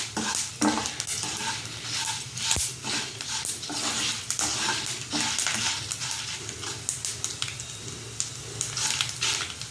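Amla (usirikai) pickle being stirred in a pan over low heat, with repeated scraping and clinking strokes over a gentle sizzle, close and lively, no speech.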